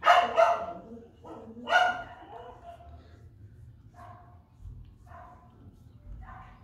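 A neighbor's dog barks nearby in a home, with a few loud sharp barks early on followed by fainter, softer yips and whines over low background noise.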